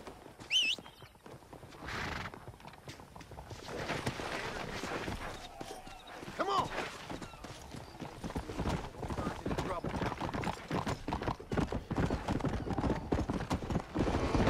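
Hooves clip-clopping as a horse runs in the video game Red Dead Redemption, a rapid steady beat that builds and carries on under someone talking, with a brief whinny near the start.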